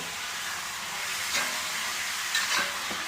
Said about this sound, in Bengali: তো এইভাবে অরেঞ্জগুলো যখন আস্তে আস্তে চিকেনের সঙ্গে ফ্রাই করতে করতে